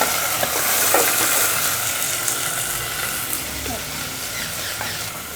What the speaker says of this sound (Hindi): ऑयल हमारा गर्म हो चुका है। अभी हम इसमें ये जो हमने मैरिनेट करके चिकन रखा था, ये इसमें शामिल कर लेंगे हम लोग।